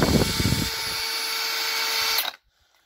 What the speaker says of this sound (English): The next thing to do is try it into a drill